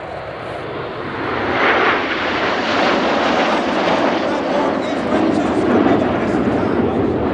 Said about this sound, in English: Coming in from the right, the smoke comes on for the reversal in Spitfire.